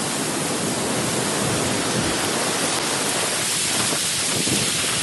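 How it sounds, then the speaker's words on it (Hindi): Heavy rain pours steadily alongside strong gusting wind, a dense continuous roar filling the whole stretch at constant loudness, with no voices. "तेज हवाओं के साथ बारिश की मोटी मोटी बूंदें गिरने लगीं।"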